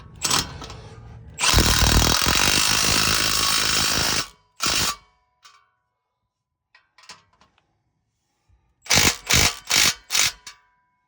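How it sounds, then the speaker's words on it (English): A power tool tightens exhaust clamps on a 2024 Toyota Tacoma Flowmaster exhaust. It gives one long, loud whirring burst, a short burst, then four quick bursts after a pause, close by. "Last step, tighten up the clamps."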